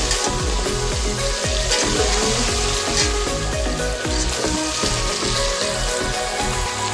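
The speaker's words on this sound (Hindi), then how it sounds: "चिकन को भून लेंगे।" Chicken frying with tomatoes, potatoes and spices for a quick chicken biryani, a loud, dense, continuous sizzle close up, punctuated by rhythmic scraping and stirring in the pan, with no voices.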